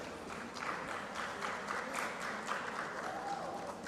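A conference crowd in Lusaka, Zambia, keeps up a steady, fairly distant round of applause, with faint voices mixed in beneath the clapping.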